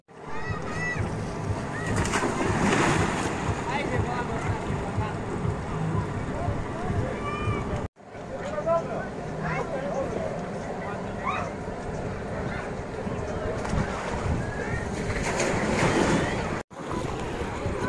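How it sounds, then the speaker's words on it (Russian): A small rented motor boat travels slowly over the sea near Jaz beach in Montenegro, with a continuous wash of waves and wind buffeting the microphone, and a voice speaking over the steady rush of water. "Ездили мы вот на таком суденышке. Медленно, но тихонечко едет."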